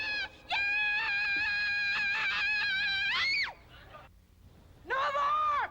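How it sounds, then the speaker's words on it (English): Contestants at a Japanese screaming contest let out long, loud, sustained high-pitched yells, one held for about three seconds, then a brief pause and another piercing scream starting up. "This Japanese screaming contest is about as weird as it gets."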